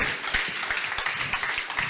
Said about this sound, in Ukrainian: Бурхливо овації